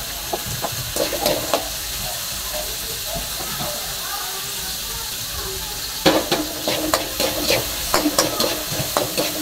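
Garlic and onion sautéing in a hot pan for native chicken with sotanghon and patola, a loud crackling sizzle with brisk stirring scrapes that surges in bursts, with faint voices in the background.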